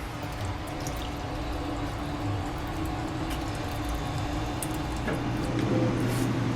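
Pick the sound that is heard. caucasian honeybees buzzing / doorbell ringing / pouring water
pouring water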